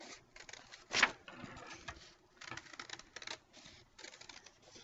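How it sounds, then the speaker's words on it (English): Scissors cutting through folded sheets of paper for a heart shape in a children's art lesson: a series of close, crisp snips and rustles, uneven in rhythm, with no talking. "if we cut through both sheets of paper at the same time, we're going to end up with a whole heart"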